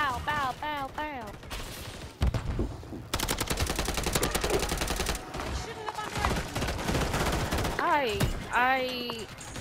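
Shotgun fire in Call of Duty MW3 sounds as dense bursts of rapid, loud blasts in the middle of the clip, while a voice talks animatedly over the start and end.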